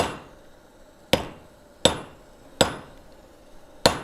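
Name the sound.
hand hammering a large piece on the anvil while forging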